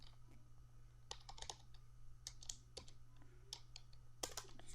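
Quiet, scattered clicks of keys on a computer keyboard as a student name is typed into a spreadsheet column, irregular bursts over a steady low hum, no talk.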